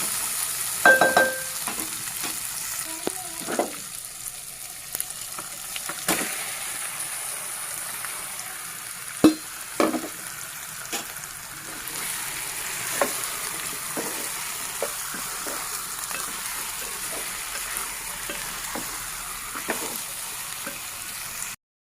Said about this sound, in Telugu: ఇప్పుడు ఇందులోకి చేప ముక్కల్ని వేసి కలుపుకుందాం